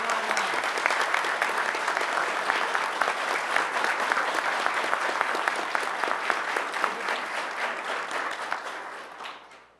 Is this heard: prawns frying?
no